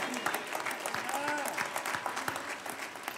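A church congregation applauding through a New Year's worship service, steady dense clapping with a voice speaking over it.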